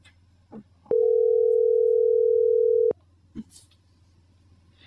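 A phone line ringing back to a customer in a call center: one long steady tone of about two seconds, loud and clear over a quiet low hum, with brief faint noises before and after.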